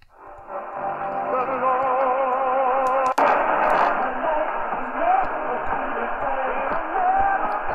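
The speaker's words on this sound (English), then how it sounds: "right next to it is the gospel station, 1390 WGRB, Chicago," Gospel station 1390 WGRB Chicago received on a Sangean SG-108 HD radio on daytime medium wave, with singing and music coming through a narrow, slightly hissy AM sound, plus a brief thump partway.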